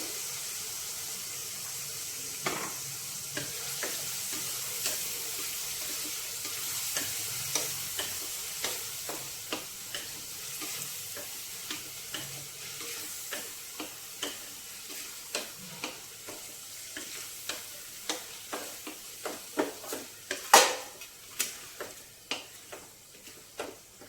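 Green chillies and curry leaves fry steadily in a pan, a soft continuous sizzle with crackling pops and scattered stirring clicks that grow sharper and more frequent toward the end, with no voices.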